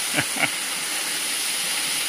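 A waterfall rushes with a loud, steady, unbroken roar, two brief chirping sounds rising over it near the start.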